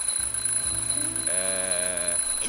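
A smoke detector being tested in a point-and-click adventure game sounds a continuous electronic alarm with a bright, steady ring over a low background tone.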